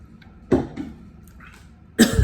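Coughing from a woman doing her makeup, two sharp close coughs about a second and a half apart with faint throat noise between them.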